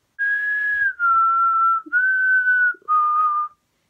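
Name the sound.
whistled imitation of the Hunger Games Mockingjay whistle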